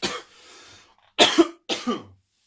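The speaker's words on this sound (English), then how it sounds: "Sorry about my mad cough." A person coughs three times up close, dry harsh bursts with short silent gaps between them.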